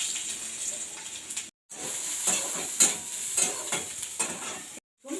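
Chopped onion sizzling in hot oil in a pan for a Bengali pui bituli curry, with a steady close frying hiss broken by stirring scrapes and two brief silent gaps.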